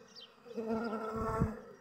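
Hungry honeybees buzz around weak hives as they attack them, a close, steady droning hum that swells through the clip with no talking.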